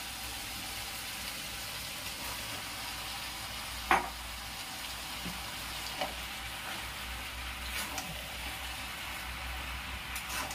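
Pasta sizzling and frying in a pan over a high flame, a steady close hiss with occasional stirring clinks and scrapes.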